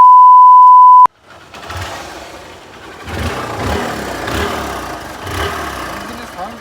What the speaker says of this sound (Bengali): ইঞ্জিনের সাউন্ড খুবই স্মুথ আছে।